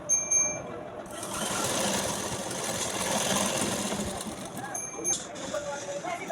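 A sewing machine runs in one long continuous burst, stitching fabric for a ruffle baby frock, close and fairly loud, with brief quieter handling sounds before and after.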